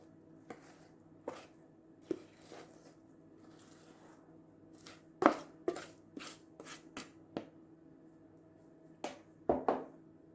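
A spoon scrapes thick apple bread batter made with self-raising flour off a wooden spoon and out of a big bowl into a greased loaf pan. Soft, scattered scrapes and light taps come at irregular intervals, close by, with no talking.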